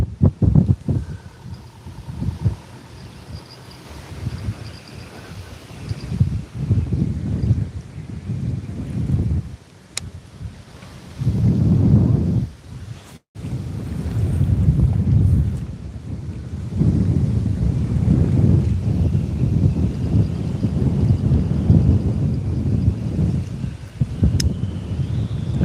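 Strong wind blowing outdoors beside the water where people are fishing, with steady gusty rumble and buffeting microphone noise that swells and drops, a brief cut near the middle, and no voices.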